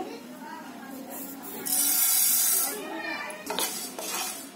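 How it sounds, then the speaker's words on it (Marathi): Fenugreek seeds drop into a hot pan for dry roasting Konkani masala, a brief rattling patter and clinks of metal, with a louder burst in the middle and soft stirring after. "पॅन तापला की त्याच्यामध्ये आहे ना पहिला मी मेथीचे दाणे टाकते"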